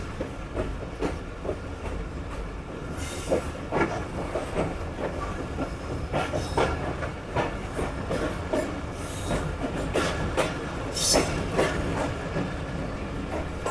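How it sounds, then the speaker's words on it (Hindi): Pakistani passenger train rolling along as another train passes alongside, steady loud rumble with clickety-clack wheel beats and brief squeals and hissing bursts throughout. "ये देखें जी हमारी ट्रेन से दूसरी ट्रेन की क्रॉसिंग हो रही है"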